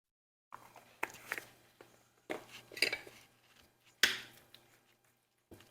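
Capirotada bread pudding sprinkled with cinnamon being mixed in a dish, giving a few soft scrapes and clinks of a utensil against the dish at close range, separated by quiet pauses.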